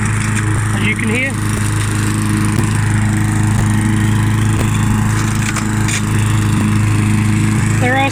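Mountfield M4 lawn mower engine running steadily while mowing grass, a loud, constant droning hum close by with faint scattered ticks throughout.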